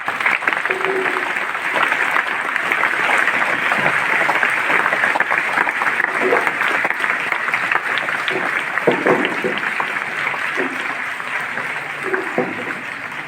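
A large audience at an outdoor street play applauds, a loud, sustained wash of clapping that carries on evenly for several seconds, with faint voices mixed underneath.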